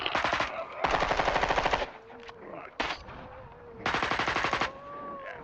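Bursts of rapid automatic gunfire in a tense hallway scene, loud close rattling volleys separated by short pauses and single shots, with faint tonal effects between bursts.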